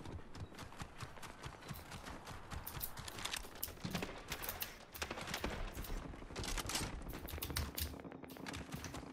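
Shotgun blasts in the Fortnite battle royale game, sharp bursts landing amid a dense, busy mix of footsteps, clatter and game effects, loud and close throughout.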